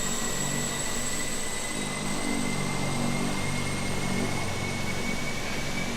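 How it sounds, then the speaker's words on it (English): Propeller plane droning steadily at an airport in Microsoft Flight Simulator, a continuous low engine hum with a faint high whine, heard nearby amid airport ambience, no talking. "I can hear a prop plane somewhere"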